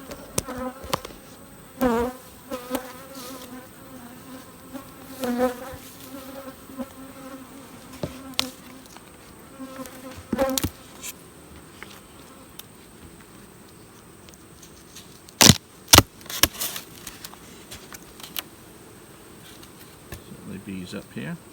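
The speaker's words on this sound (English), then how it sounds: "Bees up here." Honeybees hum and drone steadily around beehives outdoors during a fall honeyflow, their buzzing sustained throughout with a few sharp knocks and brief rustles over it.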